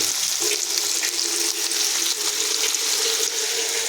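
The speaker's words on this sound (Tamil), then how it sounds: "பட்டை ரெண்டு சின்ன சின்னதாக கிராம்பு ரெண்டு ஏலக்காய் ரெண்டு அவ்வளோதான் இருக்குது போட்டு இப்போ வதக்கிட்டு இருக்கோம்" Cinnamon, cloves and cardamom sizzle steadily in hot oil in a pan, a close, continuous frying hiss with faint stirring, no voices.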